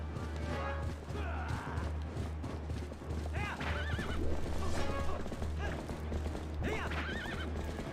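A horse whinnies repeatedly over steady clip-clopping hooves and a low rumbling soundtrack in The Legend of Zelda: Twilight Princess on Wii, during a horseback fight with Ganon in a field, with brief bursts of other action sounds.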